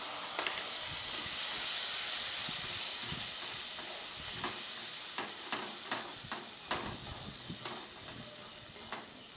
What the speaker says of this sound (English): I'll keep on stirring